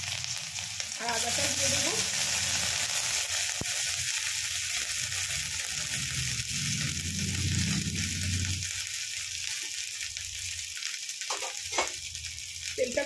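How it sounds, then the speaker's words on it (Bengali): Nigella seeds splutter and sizzle in hot oil in a home kitchen, a loud, steady frying crackle with sharper pops, while a voice speaks briefly near the end. "এখানেই কালো জিরাটা ফুটফুট করছে"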